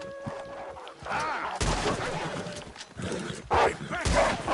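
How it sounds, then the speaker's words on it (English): Wolves in the video game Red Dead Redemption 2 snarl and bark in rough bursts, close and loud, with gunshots cracking among them and a voice talking over the scene. "I got wolves coming up here."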